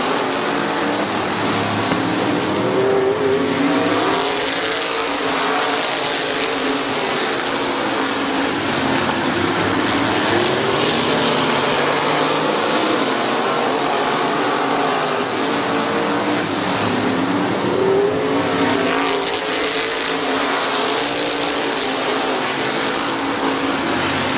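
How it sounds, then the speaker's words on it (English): Race cars roar around the oval at Midvale Speedway in a continuous loud engine drone, the pitch swelling and fading as the pack passes, with crowd and track noise blended underneath. "now Miller looking for the race lead on Tyler Knuckles"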